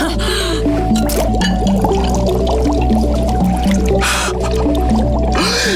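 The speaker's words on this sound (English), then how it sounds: "It's bubbling!" Liquid bubbles and gurgles in a bright blue kids' camp science experiment, with busy wet popping and dripping sounds continuing throughout and brief bursts of splashy noise.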